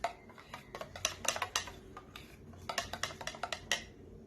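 A spoon clinks and taps against a bowl in quick, irregular strokes while milk is stirred into a banana face mask, faint and close.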